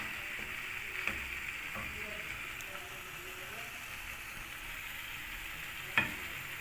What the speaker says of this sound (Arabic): بنخلي الخضار يتشوح